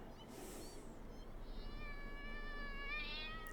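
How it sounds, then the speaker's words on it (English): Cat creature in Satisfactory making a loud, wavering meow-like wail that rises and holds for a couple of seconds over a steady low ambient rumble. "the cats make a crazy cat noise"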